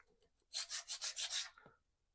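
Powder-coated clutch spring from a motorcycle clutch kit being rubbed to knock down high spots, six quick rasping strokes in an even rhythm, close and fairly quiet, with no talk.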